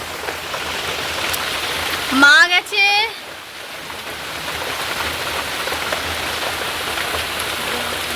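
Steady rain pattering throughout, a soft continuous hiss, with a brief spoken phrase near the start.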